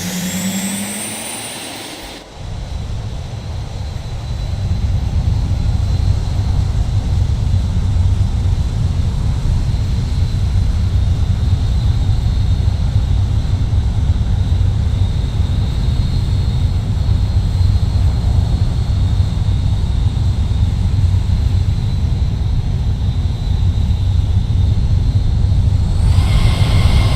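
Little Cessna light aircraft engine droning steadily and loud after a brief quiet start, a continuous low propeller rumble holding close and unchanging throughout.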